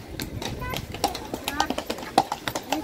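Horses' hooves clip-clop on a street in central Kraków, several animals passing with uneven repeated knocks close by, while people talk over them.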